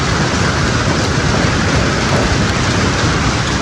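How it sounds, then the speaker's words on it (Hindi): Heavy rain pours down steadily over a village, a dense, loud, unbroken hiss with no pauses across the whole stretch. "बारिश बहुत जोर की हो रही है।"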